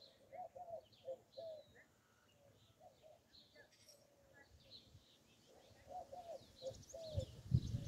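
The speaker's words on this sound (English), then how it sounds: "I wonder what those doves are talking about." Doves cooing in a park, soft repeated coos coming in short clusters at a moderate distance amid faint chirps and outdoor ambience, with rustling and handling noise growing near the end.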